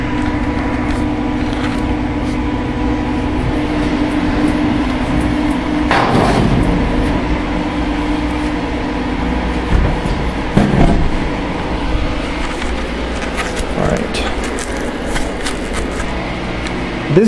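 A Capcom vs SNK 2 arcade cabinet running loudly, giving a steady, dense mechanical hum and rumble with occasional clunks and bumps, close and continuous throughout.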